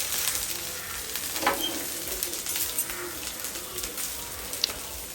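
Okra (bhendi) frying in a pan, with a soft continuous sizzle and a few faint stirring clinks. A bird calls faintly in the background.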